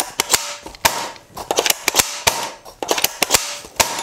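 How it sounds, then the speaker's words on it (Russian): A&K spring-powered airsoft SVD sniper rifle being fired and cocked, sharp snapping shots spaced about every half second to second with clattering lever and mechanism noises between them, close up and without speech. "Как стреляет эта винтовка с таким выхлопом, мы сейчас разберемся."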